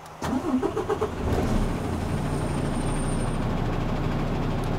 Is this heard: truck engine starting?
yes